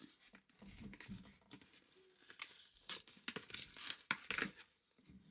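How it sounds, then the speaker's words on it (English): Glued cardboard packaging for a wearable breast pump being ripped open by hand, a series of close, uneven tearing and crinkling bursts with short pauses between pulls. "we're just going to rip this up"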